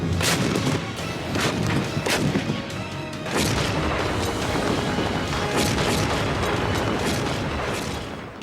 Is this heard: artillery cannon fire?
yes